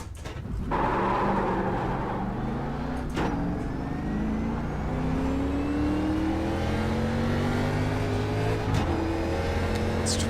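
NASCAR race car engine in the iRacing sim at Darlington, a loud sustained roar rising and falling as the car accelerates through gear changes, with sharp shift breaks, continuous and close throughout.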